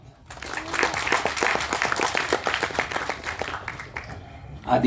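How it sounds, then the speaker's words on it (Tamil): Applause rises from the audience at the audio launch of the film Chiclets, a run of quick, scattered hand claps sitting under a voice that speaks over most of it, louder toward the end. "பயங்கரமான மிகுந்த கரகோஷத்தை கொடுத்ததுக்கு நன்றி"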